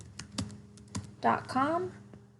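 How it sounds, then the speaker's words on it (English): Typing on a computer keyboard, a few close, sharp key clicks spaced across two seconds, with a voice speaking over the last part. "in the search, you can type in google.com"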